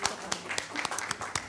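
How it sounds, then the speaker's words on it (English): Scattered applause from a small group at a city council meeting, a handful of uneven claps with a few sharper hits, fairly close and moderately quiet, with faint voices mixed in. "Yes, now we can clap."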